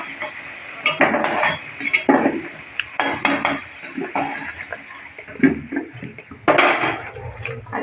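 Fried potatoes being lifted out of a pan, with repeated scraping, clinking utensils and clattering cookware in bursts over a soft background hiss, close and fairly loud.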